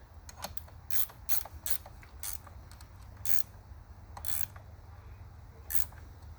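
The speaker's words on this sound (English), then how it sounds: "Then I'm just tightening up the clamps." Clamps are tightened on a 1987 Kawasaki KE100 motorcycle, giving sharp, irregular ratcheting clicks and creaks close by over a low steady hum, with no talking.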